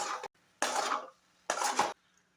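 A spoon scrapes and clatters through fried egg and toasted bread with coriander leaves in a pan, three short close bursts of stirring separated by brief pauses.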